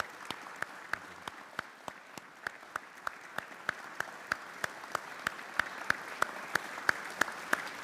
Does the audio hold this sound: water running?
no